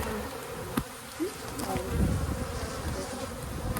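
Honeybees buzz around an open hive during colony inspection, a dense continuous drone with individual bees passing close by, plus a few soft clicks and knocks of hive handling.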